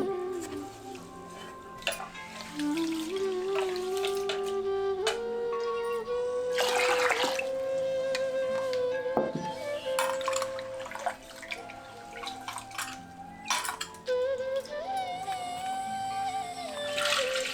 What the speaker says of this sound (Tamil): 1/2 கிலோ தினையரிசியை தண்ணி ஊற்றி கழுவிட்டு ஊற வச்சிருவோம்